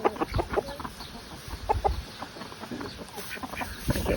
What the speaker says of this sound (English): I may end up keeping one of the Easter egger roosters